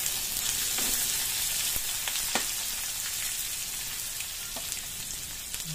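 Garlic fries in a pan for pork batchoy with a continuous bright sizzle and crackle, close, broken by a few light clicks and spatters.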